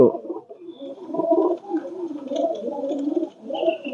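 Kuwaiti imported pigeons of Chinese, Nila and Jaldar breeds coo close by in a loft, their soft, throaty, overlapping calls rolling on almost without a break.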